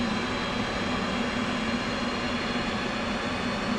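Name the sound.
F/A-18 right engine starting up in DCS World video game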